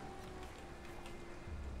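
Steady rain in the Valheim video game, a soft continuous patter of drops with a low rumble toward the end, with no talking over it.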